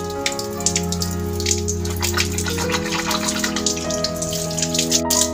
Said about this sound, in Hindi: देख रहे हैं दोस्तों जैसे कि पानी आना चालू हो गया